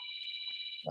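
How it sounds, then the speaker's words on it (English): A mobile phone rings with a brief, steady electronic tone, close and clear, cut off by a sudden thump at the end. "That's my phone."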